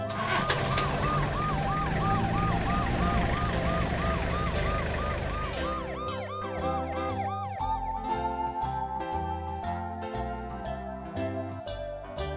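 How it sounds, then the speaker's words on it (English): A wailing army ambulance siren cycles rapidly up and down, then shifts to a slower alternating two-tone pattern with beeping tones over a rhythmic electronic backing. "Army ambulance."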